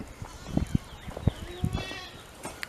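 Sheep bleat in short wavering calls nearby, several overlapping bleats with some shuffling and soft farmyard noise around them.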